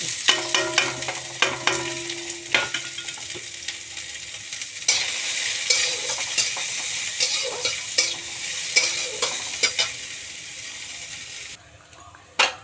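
Close, loud sizzle of chopped onions frying in a pan until browned, with repeated scraping and stirring clicks from a spatula throughout.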